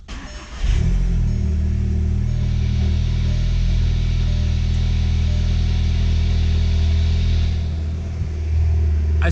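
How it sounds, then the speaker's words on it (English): A Volkswagen MK7 engine cold-starts: a brief crank catches into a loud, steady high idle that holds close and even, dipping slightly near the end, with no talking. "first, let's hear the cold start."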